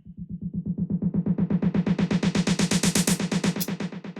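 Snare drums for a melodic techno track processed with automated echo, a rapid even roll of hits at steady tempo, brightening and washing out as the echo changes, alone with no talking.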